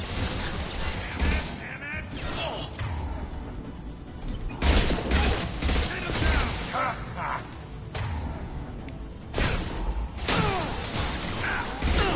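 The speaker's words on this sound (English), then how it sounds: "Firing concussive shots." Concussive shots in Mass Effect 2 land as heavy, booming blasts with whooshing tails, mixed with dense combat noise and a few sharper impacts over a constant loud battle wash.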